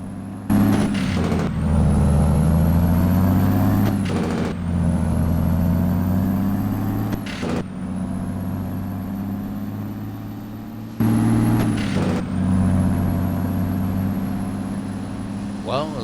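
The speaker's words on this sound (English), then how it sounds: "at least it's got a loud Jake brake, and it works" Freightliner Coronado truck in American Truck Simulator, its loud Jake brake blatting in long sustained runs under a droning diesel engine. A higher whine cuts in and out between gear changes, and air-brake hisses mark the breaks.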